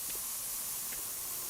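Steady broad hiss of a spray can from Spray Paint Simulator, continuous and fairly quiet with faint small clicks.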